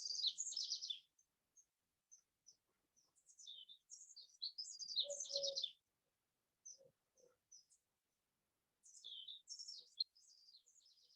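Birds sing in the morning air, high chirps and short trills coming in scattered bursts with quiet gaps, soft and somewhat distant, no voices.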